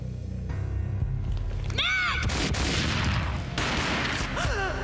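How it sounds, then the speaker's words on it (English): A gunshot booms in the Max Payne video game amid dense game sound, with rumbling, thudding bursts through the middle of the stretch and music and effects layered throughout. "A gunshot boomed and she fell down in slow motion"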